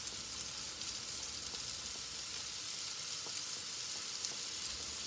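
Bacon lardons hit a hot frying pan and sizzle continuously in an even hiss of fat, close and steady, with faint crackles and no speech.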